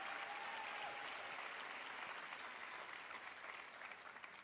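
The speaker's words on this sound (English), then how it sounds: "So give Gloria a round of applause." Applause from a lecture series audience, a soft even wash of many hands clapping at a distance, holding steady and tapering slightly toward the end.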